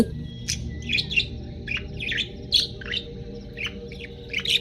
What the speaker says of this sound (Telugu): అది కిచికిచిమని అరుస్తూ ఏదో చెబుతూ ఉంది.